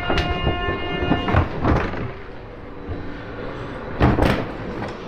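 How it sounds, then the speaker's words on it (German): Inside a moving train on a German regional line, a steady rumble runs throughout, broken by sharp clunks and rattles from the carriage, with no speech. "Ich bin im Zug drin"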